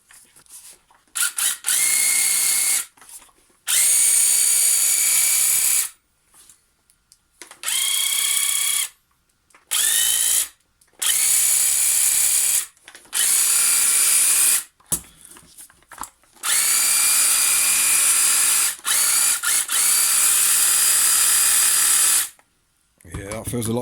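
A Makita DUH601Z cordless hedge trimmer with freshly sharpened, cleaned blades runs in repeated bursts of high-pitched whirring buzz, starting and stopping roughly eight times with short silent gaps between runs.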